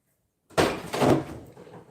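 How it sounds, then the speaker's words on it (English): A door blows open with a sudden loud thud after silence, followed by a second heavy bang and a rattling, fading rush, close by and with no voices. "my door just blew open"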